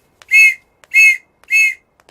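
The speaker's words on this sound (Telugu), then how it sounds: "పోలీస్ విజిల్ అంటూ భయం." A police whistle in a Telugu comedy film scene gives three sharp, evenly spaced shrill blasts, loud and close, with nothing else heard.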